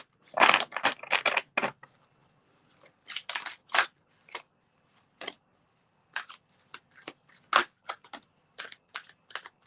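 Oracle cards, including a fairy deck, being shuffled for a reading, with bursts of riffling and soft slapping flutters in irregular clusters, close and crisp with no talk.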